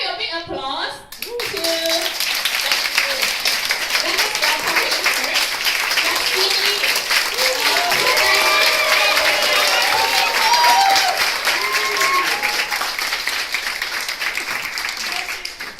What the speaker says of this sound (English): so show your big applause to